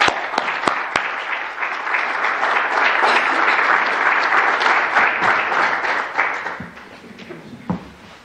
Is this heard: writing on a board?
no